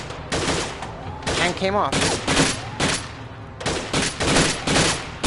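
Shotgun blasts from a PS4 game come in loud, blocky bursts separated by short gaps, with someone talking between and over the shots.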